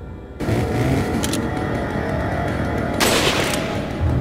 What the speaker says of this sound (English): I'm gonna pop this guy with the sniper.